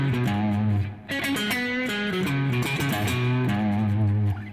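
Electric guitar with effects and distortion plays a repeated double-stop lick, ringing notes struck twice in quick succession, loud and close, with no talking.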